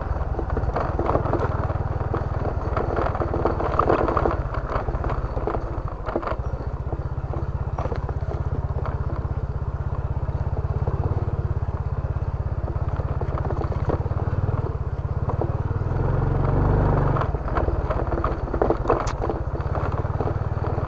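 Motorcycle rumbling steadily through a shallow creek, its engine loud and close with clattering and scraping over stones, continuous for the whole stretch.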